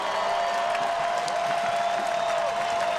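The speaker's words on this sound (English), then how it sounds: "How about one more round of applause?" A stadium crowd applauds the coaching staff at the 2014 USL PRO Championship soccer match between Sacramento Republic FC and Harrisburg City Islanders, with dense, loud, sustained clapping and some cheering and a steady tone underneath.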